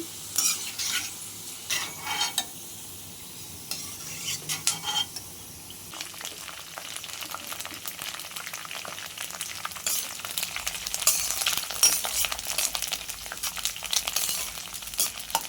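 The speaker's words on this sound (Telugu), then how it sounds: "కూడా మంచిగా డీప్ ఫ్రై అయ్యాయి ఇప్పుడు బెండకాయ ముక్కలు వేసేసుకుందాం" Okra pieces deep frying in hot oil, a steady close sizzle with repeated scraping and clinking of a spoon stirring in the pan, growing busier toward the end.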